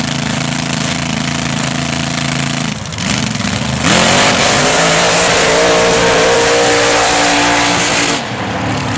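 Trucks roar through a mud bog at Billy Barker Days in Quesnel, British Columbia, their engines loud and droning hard under full throttle, surging louder midway and staying harsh and continuous for several seconds.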